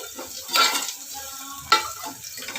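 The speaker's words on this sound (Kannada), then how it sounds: "ನೋಡಿ ಎಣ್ಣೆಗೆ ಈರುಳ್ಳಿ ಈ ಥರ ಫ್ರೈ ಆಗಬೇಕು" Onions fry in oil in a home kitchen, the start of a chicken masala. A steady sizzle runs throughout, with two louder scraping stirs, one early and one near the end, and no talking.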